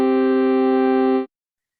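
Two steady tones sounded together as a perfect fifth interval, a single sustained harmonic chord lasting just over a second before cutting off cleanly into silence.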